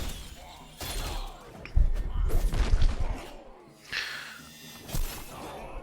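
Shooting in Heroes of History: Epic Empire: a string of sharp gunshot-like cracks and crashes, with a dense burst of impacts and thuds in the middle and a few separate bangs later, amid busy battle effects.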